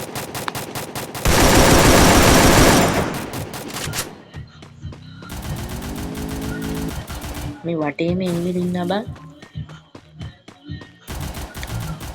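Rapid video game gunfire bursts loudly for a couple of seconds, with sparser shots scattered afterward, while a player talks over the game's sounds and effects.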